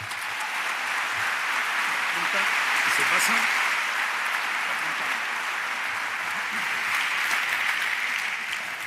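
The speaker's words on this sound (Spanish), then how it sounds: "Un aplauso para él." Steady, full audience applause fills a science outreach event hall after a talk on cancer, holding at an even level for several seconds with a swell of cheering partway through.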